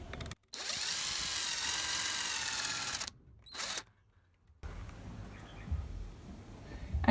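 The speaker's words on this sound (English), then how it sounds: "I'm just drilling a pilot hole first so I can get the hooks in." A power drill bores a pilot hole for hooks in a wooden chicken coop fitting, one loud sustained whir for about two and a half seconds, then a short second burst, followed by quieter handling noise.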